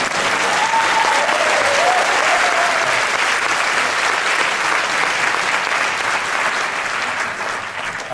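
Sustained, dense applause from a theatre audience fills the whole stretch at the opening of a musical theatre festival in Gdynia, loud and steady with only a slight fade near the end.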